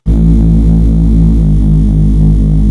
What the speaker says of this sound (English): I added a Reese bass, which sounds like this.